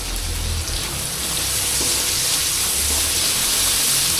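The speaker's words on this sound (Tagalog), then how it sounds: "Para may lasa na siya habang ginigisa." Food sautéing in a pan, seasoned with ground black pepper and salt, gives a steady, close, loud sizzle and frying hiss that lasts throughout, with no talking.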